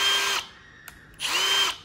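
Milwaukee M12 FUEL 2598-22 cordless hammer drill whirring loudly at full speed in two bursts, spinning down briefly between them with a small click, then revving back up.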